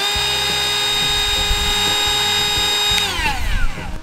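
An IMAX IMMG 8V cordless mini grinder runs at a steady high-pitched whine, loud and close, with its tone sliding downward as it spins down near the end.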